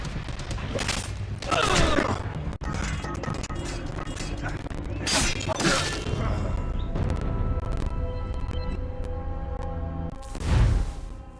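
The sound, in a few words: gunfire volley in Assassin's Creed Rogue video game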